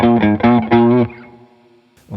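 An electric guitar through a Carl Martin HeadRoom compact digital spring reverb pedal, set as an always-on reverb, strums a few loud chords that ring out and fade into a long, soft, splashy reverb tail. A faint noise follows at the end.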